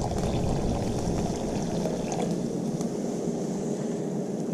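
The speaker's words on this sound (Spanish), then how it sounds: "le ponemos un poquito de agua" A little water is poured from a glass onto a radio-controlled model car tire and rim, giving a soft, steady, faint trickling splash with no talking.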